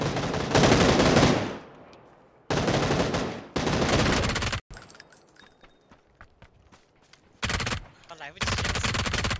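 Gunfire in a shooting video game comes as long, loud automatic bursts separated by quieter gaps, near and dense, with one brief sharp crack midway and a final pair of bursts at the end.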